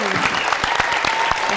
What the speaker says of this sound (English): give a last very warm round of applause